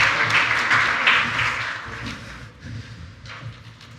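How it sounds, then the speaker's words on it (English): Audience applause at a startup challenge event, a moderate wash of clapping that gradually fades and thins over a few seconds. "Okay, round of applause."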